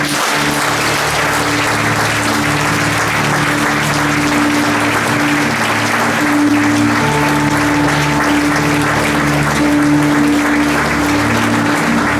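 A church congregation applauds steadily and loudly throughout, a dense continuous clapping with a faint sustained tone beneath it.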